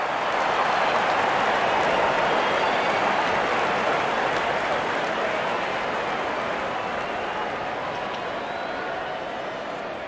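Broad, steady roar of a large stadium crowd applauding and cheering a boundary at a Bangladesh versus Ireland cricket match, sustained and loud, slowly easing toward the end.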